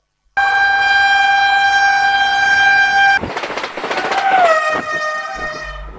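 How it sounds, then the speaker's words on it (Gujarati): A loud, sustained horn from a Vande Bharat express train blasts for several seconds at Junagadh Junction, then the heavy rumble and clatter of the passing train follows, with a second, shorter horn call. "આજે વંદે ભારત ટ્રેન જુનાગઢ જંકશન ખાતે આવી પહોંચી"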